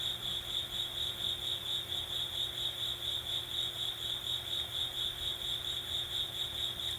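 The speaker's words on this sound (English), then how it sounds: "be mindful again of the music of the cricket" Crickets chirp in a steady pulsing trill that carries evenly over a quiet night backdrop, with no voices, during a guided meditation.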